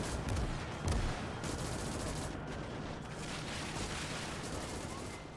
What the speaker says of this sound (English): Mortars are still firing off on the road just behind this destroyed house.